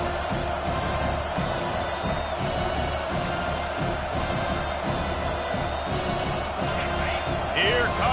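Home crowd roaring steadily at a college football game in a video game, sustained loud cheering through the whole stretch, with faint commentary underneath.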